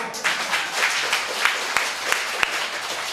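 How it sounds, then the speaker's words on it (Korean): A church congregation at a Friday prayer service claps together, a lively burst of applause with a few sharper individual claps standing out over the crowd for about three seconds. "할렐루야, 박수."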